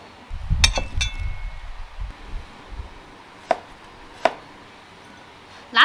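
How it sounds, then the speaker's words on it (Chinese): A kitchen knife chops celery into long pieces along with scallion, ginger and garlic on a board, first in a quick burst of close, sharp cuts, then a few isolated knocks spaced apart. "把那个芹菜还是要给它改下刀哈，给它切成长段段，切上一点葱姜蒜哈"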